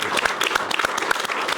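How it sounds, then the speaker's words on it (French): Studio audience applauding on a French television talk show set, dense steady clapping from many hands throughout, fairly close and alone. "On peut l'applaudir."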